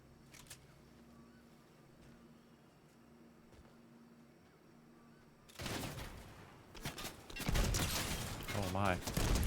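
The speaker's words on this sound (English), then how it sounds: "And I hear some shooting going on." Gunfire from the video game Fortnite bursts out after a quiet stretch: dense, rapid volleys of shots in clustered bursts that grow loud over the last few seconds, with faint voices in the background.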